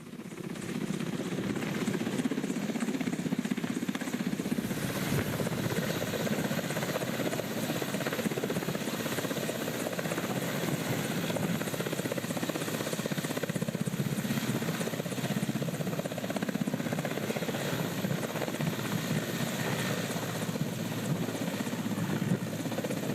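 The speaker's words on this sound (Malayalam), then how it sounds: "ZP-5151 ഹെലികോപ്റ്ററാണ് നിലയ്ക്കലിൽ എത്തിയത്." An Air Force helicopter, ZP-5151, flies over Nilakkal near Sabarimala, its rotor and engine making a loud, steady, unbroken drone from start to finish, with no one talking.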